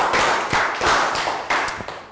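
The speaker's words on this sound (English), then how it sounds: "Round of applause." A small primary school class clapping after a lesson, a few loud close bursts of hand claps and taps, uneven and short rather than a sustained ovation.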